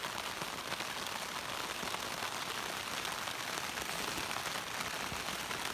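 Rain falls steadily on and around a tent at a wild camp, a soft continuous patter that stays even and fairly faint throughout.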